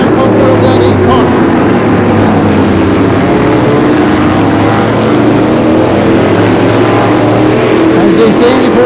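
Vintage modified race cars at Flamboro Speedway thunder around the oval in a loud, continuous roar of engines, with a track announcer calling the race over the din throughout.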